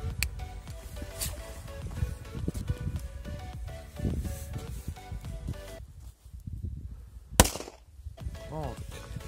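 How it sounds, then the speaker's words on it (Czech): A Flashbanger firecracker set off on New Year's Eve goes off in one sharp, loud bang, following a stretch of crackling noise and rumble. "máme tu Flashbanger, neboli jakoby dělová rána"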